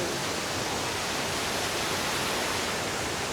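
A loud, dense, continuous roar of rushing water from the Cascade de Berard waterfall nearby, steady and unbroken with no voices.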